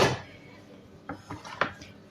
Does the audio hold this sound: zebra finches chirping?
no